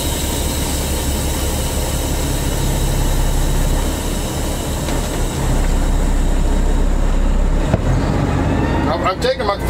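A heavy truck with an 18-speed transmission drives in fifth gear, its deep engine drone steady and close throughout, with a voice talking over it.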